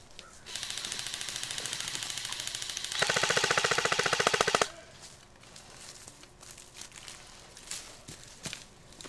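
Airsoft guns fire in a firefight near a desert area. Rapid bursts of shots come first, then a louder, denser burst, and scattered footsteps and movement noises follow.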